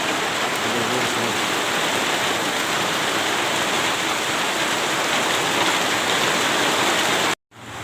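Steady heavy rain pours down at Cirata reservoir while someone is out fishing, a dense continuous hiss of drops hitting the water surface, loud and close, with no talk, cutting off abruptly just before the end.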